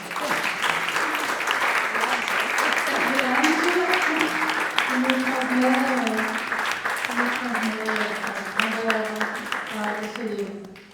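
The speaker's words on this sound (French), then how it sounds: "Alors, je crois qu'on peut applaudir à Elsa Morante." A crowd applauds at a meeting with an author named Elsa, sustaining warm, continuous clapping for several seconds while a voice speaks intermittently over the applause before it tapers off at the end.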